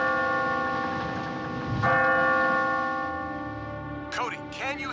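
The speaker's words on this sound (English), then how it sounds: "we found the settler's bell" A settler's bell in a Transformers: Rescue Bots cartoon rings with a long, resonant tone that swells and slowly decays, struck again partway through, with a brief voice near the end.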